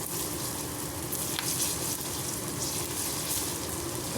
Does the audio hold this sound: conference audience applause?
no